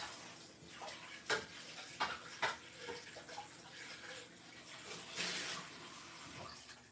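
Water from a kitchen tap runs over a juicer part as it is rinsed, with a steady splashing wash broken by a few sharp knocks and clatters of plastic against the sink.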